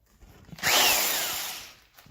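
A power drill, used to spin-start a small engine with no pull start, whirs up suddenly, holds a high, steady whine for about a second, then winds down and stops.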